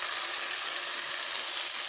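Fried cauliflower and potatoes sizzling in a pan of hot oil, a steady, close, loud hiss that barely varies, brief and without voices.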